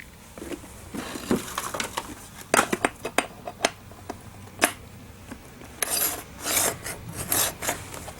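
Ice skate blade being sharpened with a GE Carboloy handheld skate sharpener, close rasping scrapes in irregular strokes, some quick single pulls and a denser run of rubbing passes toward the end.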